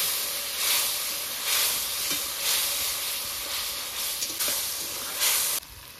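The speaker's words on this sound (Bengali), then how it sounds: "জল দিয়ে ভালো করে মশলাটাকে একটু কষিয়ে নেব" Masala sizzles in a pan with a splash of water, a steady hiss broken by rhythmic surges as it is stirred, close and fairly loud, with no talking.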